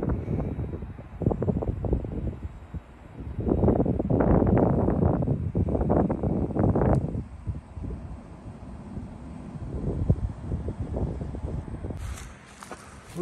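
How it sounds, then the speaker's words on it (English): Strong wind gusts across an open ridge during an elk hunt in Arizona, a continuous low roar with louder surges, mixed with rustling and possible footsteps. "Windy as hell today."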